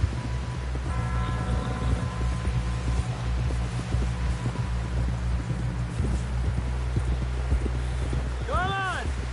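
Horse hooves clip-clopping at a steady trot through Red Dead Redemption 2, a rhythmic run of soft thuds over an outdoor ambience, with a short whinny-like call near the end; a voice speaks briefly.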